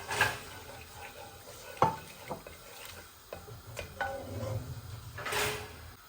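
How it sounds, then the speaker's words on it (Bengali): Cinnamon, cardamom, bay leaf and star anise fry in about two spoons of oil in a pan, giving a quiet sizzle broken by a few stirring clicks and the scrape of a utensil, with no talking. "আমি ডালচিনি, এলাচি, তেজপাতা আর একটা স্টার দিয়ে দিচ্ছি"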